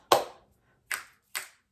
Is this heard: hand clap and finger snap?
yes